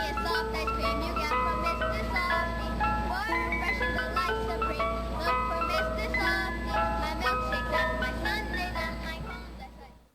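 A British ice cream van plays its chime tune, a bright tinkling melody of repeated notes over a steady low engine drone, continuous and moderately loud before fading at the end.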